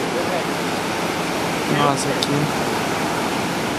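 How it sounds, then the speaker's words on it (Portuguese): Pacific Ocean surf at Arica, Chile, a steady broad wash of waves filling the whole stretch, with a brief spoken voice over it midway. "Oceano Pacífico."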